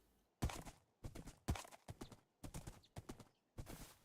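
A horse's hooves clop in Minecraft while the rider holds a sword, in quick paired hits that come in regular bursts with short gaps, crisp and close with no talk.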